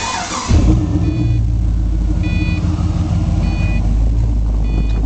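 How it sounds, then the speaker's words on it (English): A low-mileage 2004 Pontiac GTO starts up and settles into a loud, deep rumbling idle, heard close and steady, with faint periodic beeping chimes in the background. "I'm gonna let you hear it running."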